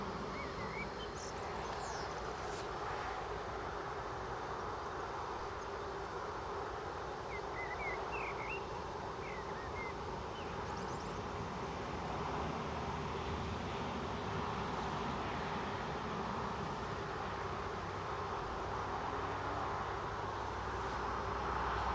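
A Lauda airliner lands on the runway at Newcastle, heard as a steady, distant engine roar that holds at one level throughout, with faint birdsong chirping now and then.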